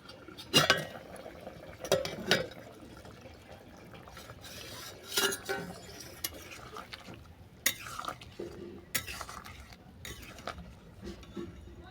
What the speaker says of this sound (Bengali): আবারও দু মিনিট পর আমি চাপাটা খুলে নিচ্ছি